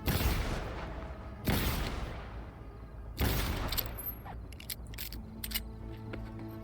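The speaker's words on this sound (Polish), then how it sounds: "Strzelanie z rewolweru." Revolver shots in Cyberpunk 2077 crack out loud and close, three heavy blasts spaced about a second and a half apart, followed by fainter clicks and small impacts.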